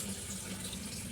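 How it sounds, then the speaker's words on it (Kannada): Water is poured from a coffee glass onto a quarter glass of sugar in a cooking pan, making a faint, steady trickling and gushing that is close by, soft and continuous, with no speech. "ಅಷ್ಟೇ ಮೆಜರ್ಮೆಂಟಲ್ಲಿ ನಾನು ಇವಾಗ ನೀರು ಕೂಡ ಇದಕ್ಕೆ ಹಾಕ್ತೀನಿ."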